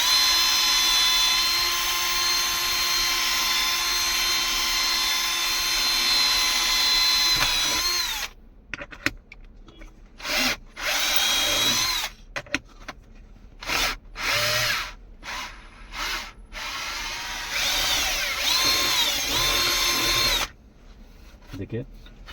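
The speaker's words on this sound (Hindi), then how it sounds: "जिसके माध्यम से हम इसमें अब ड्रिलिंग करेंगे अच्छा से।" Power drill boring a hole in a Toyota Fortuner panel during a camera installation, a long continuous whine at first, then short repeated bursts of drilling separated by pauses.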